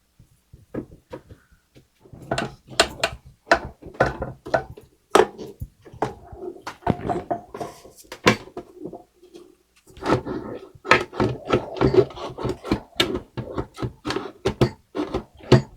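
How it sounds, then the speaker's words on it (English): Screws being removed from a vintage hand-cranked ice crusher, a series of sharp close metallic clicks and clanks with small rattles and tool contacts, irregular and intermittent with quiet gaps between bursts. "I think I'm going to go for the obvious and take these 4 screws off first"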